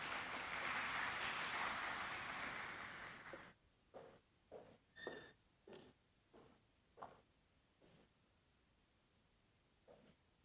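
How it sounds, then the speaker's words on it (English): Audience applause at an evening event hosted by the High Commission of India in Trinidad and Tobago, a steady wash of clapping that fades out after a few seconds, followed by faint scattered thumps. "A round of applause, please."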